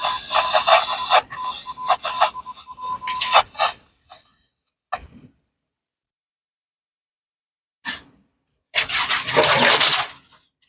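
A 2WD van on Kentucky fire service roads slides sideways into roadside brush, with loud scraping and crackling of branches against the body in bursts, then a pause, then a long heavy scrape near the end.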